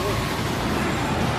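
Street traffic in Bogotá comes through the open windows of a car as a dense, steady wash of road noise and distant vehicles, with no clear single event standing out.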